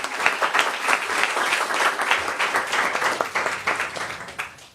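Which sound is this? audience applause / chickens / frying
audience applause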